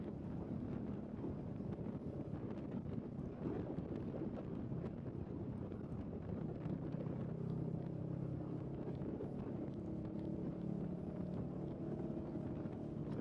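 A motorcycle engine winds out steadily under wind rush while riding on a warm afternoon commute, a continuous droning rumble that holds level and alone for the whole stretch.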